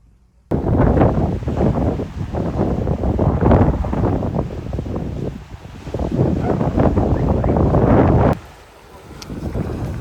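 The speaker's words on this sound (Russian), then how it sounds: "Слушайте, такой ветер поднялся." Strong cold wind buffets the microphone in loud, gusting roars outdoors near a parking area, easing briefly near the end before surging again.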